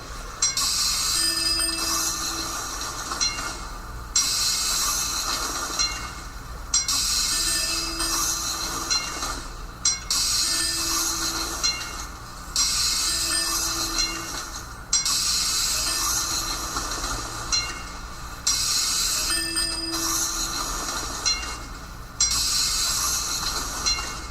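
Repeated rail-like clatter and rushing hiss in regular bursts every few seconds, with faint squealing tones, a steady mechanical tram soundscape from the video game Cities in Motion, with no talking.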